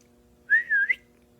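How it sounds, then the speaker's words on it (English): A single short whistle calling a beagle rises and dips in pitch, clear and close, against a quiet background with a faint steady hum. "I whistle."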